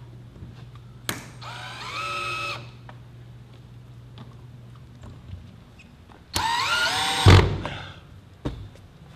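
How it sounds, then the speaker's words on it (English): A power drill drives drywall screws into drywall in two separate bursts, each a rising whine of the motor lasting about a second, with light knocks and handling clatter in between. "these are drywall screws, so there's no need for anchors because they bite into that drywall right there"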